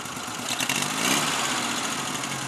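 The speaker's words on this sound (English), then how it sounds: "So I'm just going to start the car up" A Volkswagen Beetle's small air-cooled engine with a performance-style exhaust idles close by, a steady rumbling drone with slight throttle wavers and no talking.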